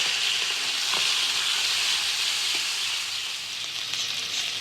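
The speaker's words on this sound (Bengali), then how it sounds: "তেল দিয়ে চিংড়ি মাছটাকে নুন হলুদ মাখিয়ে এবার মাছটা একটু ভেজে নেব।" Prawns coated in salt and turmeric fry in hot oil in a kadai with a steady, close, bright sizzle, and a couple of faint soft knocks occur partway through.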